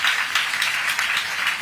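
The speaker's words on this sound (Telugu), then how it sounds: "గట్టిగా అందరూ కూడా చప్పట్లు కొట్టి అభినందించండి" A crowd of people claps steadily together at a public event, a dense, even wash of applause lasting under two seconds with no voices over it.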